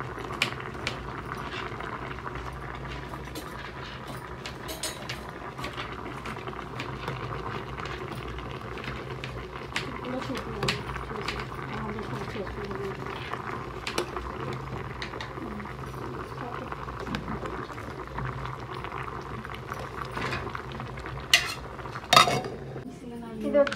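Chicken liver sizzles in a pan while it is stirred, with steady frying hiss and scattered metallic clinks and scrapes of utensil on pan, closer clatter toward the end.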